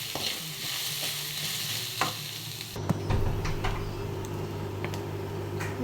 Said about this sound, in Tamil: தேங்காய் சேர்த்து இதுவும் நல்ல ஒரு ப்ரௌனிஷாக ஆகிற வரைக்கும் நல்லா வறுக்கணும்